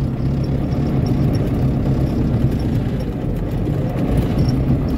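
A racing tractor covered in salt idles and rumbles steadily at close range as it drives in, a continuous low mechanical drone with no talking.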